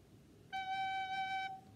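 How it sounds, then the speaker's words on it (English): A recorder sounds a single sustained G, clean and steady for about a second, close but soft against a quiet room. "So you're gonna play G that sounds like this"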